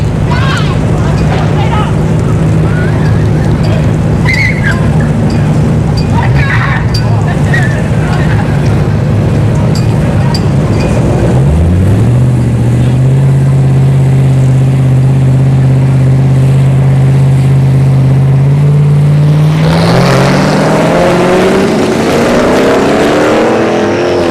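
At a drag strip test-and-tune session, a Dodge Magnum and a Ram 1500 missing its tailgate sit side by side, then a loud, close engine drone climbs in pitch with rising revs, buffeted by heavy wind noise.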